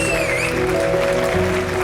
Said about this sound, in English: Round of applause first of all to all the children who took part in this competition.